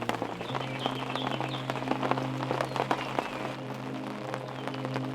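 Raindrops patter on a tent during the wet season in Botswana's Okavango, with scattered irregular taps over a steady low hum and some faint background calls.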